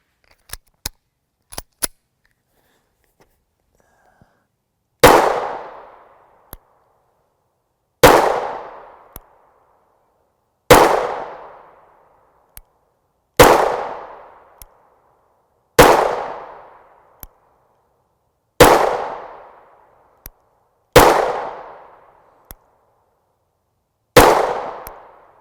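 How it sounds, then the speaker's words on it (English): Nine-millimetre Hirtenberger 100-grain JSP rounds are fired from a Springfield Hellcat pistol with a 3-inch barrel, eight sharp loud reports spaced about three seconds apart, each with a quick decaying ring, after a few faint clicks at the start. "We'll start with our shortest barrel length, which is our Springfield Hellcat 3" barrel."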